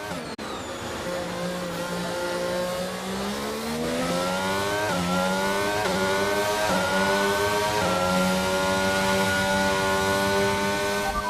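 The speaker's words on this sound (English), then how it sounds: "I can hear cars behind." F1 race car engines in the F1 22 game on the Monaco circuit scream through rising gear-change revs, with repeated upshifts and a steady high-pitched whine from the cars behind, loud and continuous.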